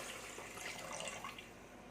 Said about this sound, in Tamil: அதை அப்படியே ஊற்றிக்கிறேன்.